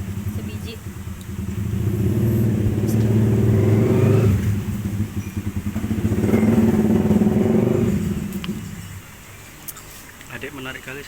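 A big motorcycle engine revs loudly twice, each surge swelling and then falling back to a rough idle, heard up close with a bit of background clatter.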